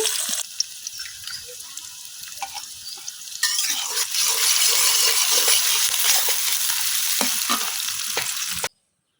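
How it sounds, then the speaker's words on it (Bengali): Onions dropped into hot oil in a wok set off a loud, steady sizzle that jumps in intensity partway through and holds as continuous frying with occasional stirring scrapes, ending abruptly. "তেলটা গরম হয়ে গেছে এখন এই যে আমি পেঁয়াজ ডালিতেছি"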